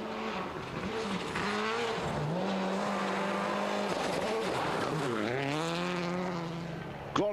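A rally car in a racing video game charges through a long gravel stage, its engine roaring close and loud with rising and falling revs as it shifts, continuous for the whole stretch with no talk.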